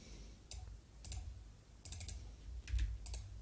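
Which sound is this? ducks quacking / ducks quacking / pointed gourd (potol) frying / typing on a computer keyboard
typing on a computer keyboard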